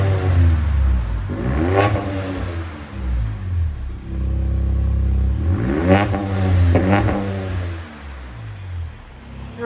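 A RAM 1500 pickup engine, either the 3.0L Hurricane or the 5.7L HEMI, revs loudly and close up in repeated surging bursts, with a long steady high-idle hold in the middle and no talking.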